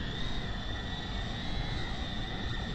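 A small drone flies with a steady high propeller whine layered over a dense, noisy rumble that holds level throughout, with no voices.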